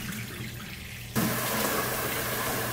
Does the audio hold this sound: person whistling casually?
no